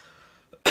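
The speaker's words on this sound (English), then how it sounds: "Cough." A single short cough bursts out near the microphone at the very end, loud and abrupt, after a brief quiet breath.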